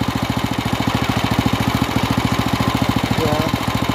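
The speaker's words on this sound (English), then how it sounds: "Now it starts when I put this on choke." A small off-road kart engine idles roughly on choke with a dirty carburetor, thumping close and loud in a fast, steady, even putter throughout.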